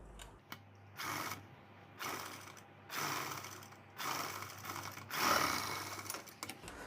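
Sewing machine stitching a zip onto a 36-size princess-cut blouse, running in several bursts of about a second each with short pauses between, close and fairly quiet with a steady mechanical whir.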